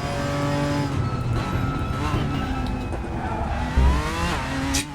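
A race car in the RaceRoom racing game attacks a violent chicane, its engine revving and shifting with short tyre squeals and a brief thump over the kerb.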